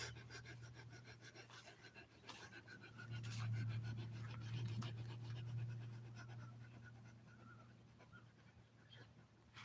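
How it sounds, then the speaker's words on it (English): Rapid, rhythmic breath-of-fire breathing exercise, quick forceful exhalations pumped from the diaphragm, repeating steadily for several seconds at a low, close but faint level over a constant background hum. "It's called the breath of fire. Right from the diaphragm."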